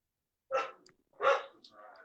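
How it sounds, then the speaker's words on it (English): Several pet dogs bark indoors in two sharp bursts about a second apart, followed by softer, lingering yips and whines, fairly close and moderately loud, with no voices over them. "my dogs are all barking"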